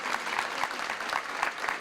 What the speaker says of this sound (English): give her applause.